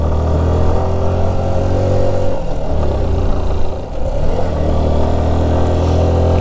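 A motorcycle engine labours in first gear while climbing a steep, rocky mountain road on the route to Adi Kailash, giving a loud, steady, strained drone with clattering that dips briefly midway.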